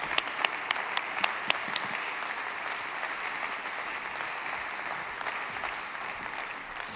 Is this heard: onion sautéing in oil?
no